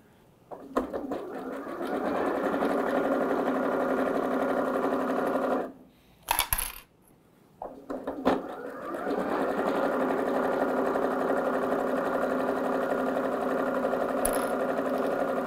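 A sewing machine runs steadily stitching a satin cap, a fast even motor whir that pauses briefly midway with a few clicks, then resumes at the same pace.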